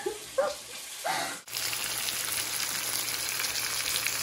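Helicopter catfish fry in hot oil with lemon leaves, a loud, steady, close sizzle that cuts in abruptly after a few brief clinks and kitchen sounds at the start.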